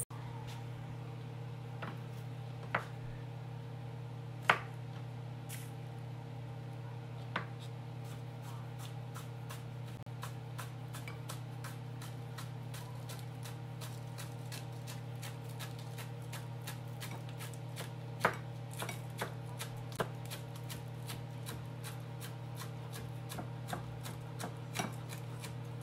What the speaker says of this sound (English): we're gonna go ahead and chop up our onions